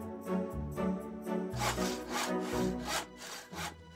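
A hand saw cuts through wood in quick, steady back-and-forth rasping strokes, close and alone.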